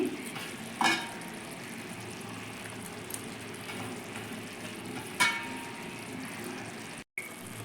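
Bombay duck (lote) fish curry cooking on a stove over fairly high heat to dry off the water, giving a steady close sizzle and bubble with a few sharp utensil clinks and a brief dropout near the end.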